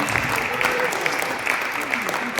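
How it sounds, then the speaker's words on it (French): A crowd applauds the weekend's performers at a prize-giving ceremony, steady broadband clapping sustained throughout at moderate level, with a voice faintly audible underneath. "On peut encore les applaudir pour leur performance du week-end."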